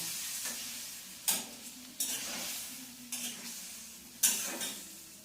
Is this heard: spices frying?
yes